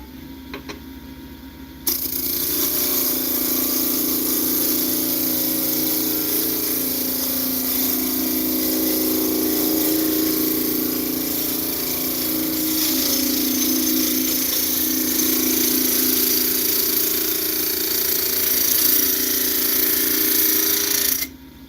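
A wood lathe spins a turned bowl while a tool makes a slow cut, a steady loud whirring and scraping hum that starts abruptly and holds for about twenty seconds, with no talk.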